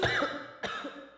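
A person coughs twice in a cough medicine advert: a harsh burst at the start, then a second cough a little over half a second later, close and clear.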